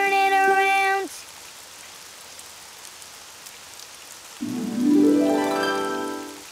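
Gentle cartoon rainfall patters steadily outdoors in a children's animated show, with a brief musical tone at the start and rising melodic notes near the end over the rain.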